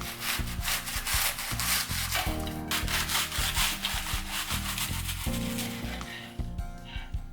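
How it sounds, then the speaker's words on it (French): A serrated knife saws back and forth through crisp puff pastry, trimming its edges, producing repeated rough scraping strokes, close and fairly steady. "Avec un couteau-scie, je viens ébarber les côtés pour avoir des bords droits."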